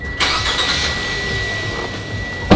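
A Mitsubishi New Xpander engine catches with a starter burst and then settles into a steady, close idle hum for a couple of seconds.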